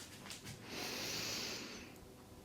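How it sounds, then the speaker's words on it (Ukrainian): A single deep, drawn-out breath in through the nose during a posture exercise, rising into a broad airy hiss over about a second and then fading. It is close and fairly quiet, with no talking. "І тепер, от прям втягніть і зробіть такий хороший амплітудний вдих."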